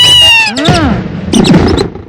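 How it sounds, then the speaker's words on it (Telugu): A cat gives a loud, close meow with a rising and falling wail, then a second drawn-out cry, in a comedy scene, with no talk over it. "Pilli is there."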